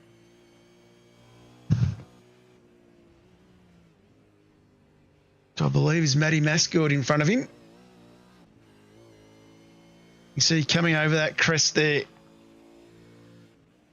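V8 race cars racing at Road Atlanta whine past under commentary, a brief burst early, then two long harmonic engine roars with shifting pitch as cars sweep through the corners, near and loud, with someone talking over them.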